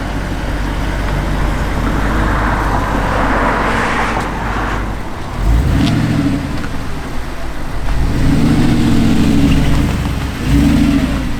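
A car on new Michelin Pilot Sport 4S tires drives along, its engine rising and falling through several revs over a continuous close road and tire roar, with no talking.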